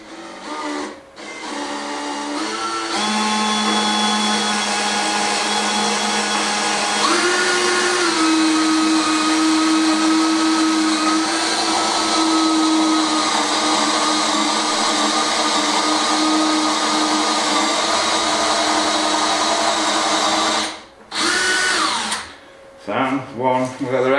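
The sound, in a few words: drill boring holes for sliding door installation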